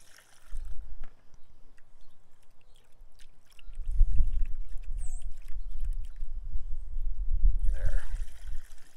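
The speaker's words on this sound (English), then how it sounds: "then pour in the mixture" EM-1 microorganism mixture poured into a container, a soft gurgling trickle that starts briefly, pauses, then returns louder and steadier for several seconds, close by and with no talk over it.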